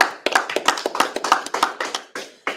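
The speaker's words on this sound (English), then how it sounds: "let's clap it up." Audience members at a Purim feast gathering clap in a quick, rhythmic, close-up burst of sharp handclaps lasting a couple of seconds, with no talking.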